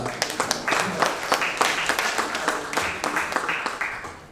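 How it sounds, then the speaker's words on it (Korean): An audience at a political forum anniversary ceremony applauds to welcome lawmaker Noh Woong-rae, a steady wash of many hands clapping with scattered sharper claps, moderately loud and continuous throughout. "뜨거운 박수 부탁드리겠습니다."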